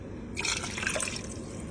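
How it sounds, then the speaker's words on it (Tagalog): Broth poured into a pot for chicken couscous, a short steady splashing pour of liquid close by, alone with no talk. "And now, ilagay na natin yung ating sabaw."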